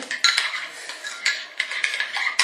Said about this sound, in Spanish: Y mezclamos eso, ¿verdad? Mezclamos y mezclamos.